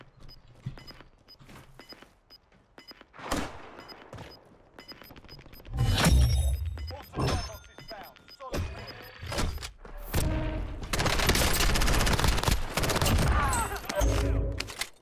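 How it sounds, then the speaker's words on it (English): Gunfire in Call of Duty Warzone during a battle royale match, with scattered single shots early, then loud bursts, thuds and sustained rapid fire in the later half, close and dense over game ambience. "Someone's shooting me."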